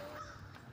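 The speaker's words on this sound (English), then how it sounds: "You hear the crow in the background?" A single short crow caw, somewhat distant, over faint outdoor background noise in New Orleans during light rain.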